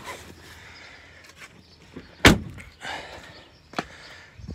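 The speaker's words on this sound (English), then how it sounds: "So with the door closed" The door of a 2018 Ram 1500 Sport Quad Cab pickup shuts with a single sharp, loud thunk near the middle, set among faint rustles and one smaller knock afterward, with no talking.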